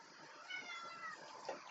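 A cat meows a few times nearby, the calls soft and fairly quiet against a hushed indoor background, with no one talking.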